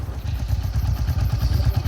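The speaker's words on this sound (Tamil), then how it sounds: "அப்படியே இன்ஜினை போட்டு முறுக்கு ஓட்டிட்டு வந்துட்டு இருக்கிறேன்" A motorcycle engine drones steadily while riding on a dark hill road toward Kodaikanal, a low, rumbling throb with wind noise, close and continuous with no talk.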